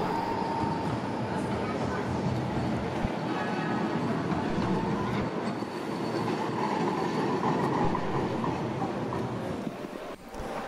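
Dresden tram rolling past on its rails, a loud, continuous rumble with rattling wheels and faint squeals that holds steady before easing off at the end.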